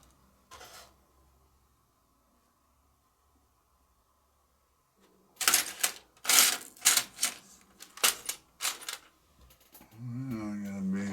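A burst of metallic clattering and clinking as someone rummages through a pile of wrenches, loud, close and irregular after a long quiet stretch, with a voice speaking at the end.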